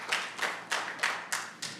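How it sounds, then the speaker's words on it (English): Six sharp, evenly spaced hand claps from a lone person at a panel discussion on law enforcement and the right to counsel, close and fairly quiet with no talk. "Always end on the applause."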